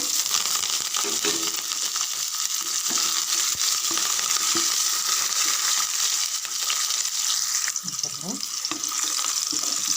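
Crushed ginger, garlic, whole garlic cloves, green chillies and curry leaves sizzle steadily in hot oil throughout, a loud continuous frying hiss with occasional stirring clinks.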